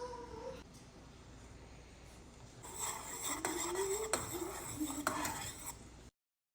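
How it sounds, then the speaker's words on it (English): Homemade sugar wax boils in a pot while being stirred, making soft scraping and clinking of a utensil against the pot that is quiet at first and builds to a steadier stirring before stopping abruptly. "Now what I want to do, I just want to stir it up just a little bit."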